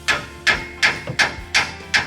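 A hammer strikes a closed-end box wrench fitted on a brake bolt of a Chevy Express 2500/3500 van, six sharp metallic blows in a steady rhythm, close and loud.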